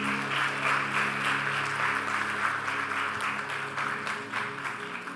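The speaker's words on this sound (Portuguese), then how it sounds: "Pode aplaudir o Senhor, irmão." Church congregation applauding during a sermon, a dense steady wash of many hands clapping that fills the hall evenly from start to finish, with no speech over it.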